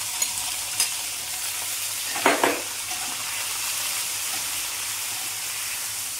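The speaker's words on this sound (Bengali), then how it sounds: "এখানে সিদ্ধ করা ডাঁটাগুলো তেলের মধ্যে দিয়ে দিলাম।" Boiled drumstick stalks fry in hot oil with onion and whole cumin, a constant soft sizzle with a couple of faint clicks and one brief scraping stir midway, close and fairly quiet, with no voices.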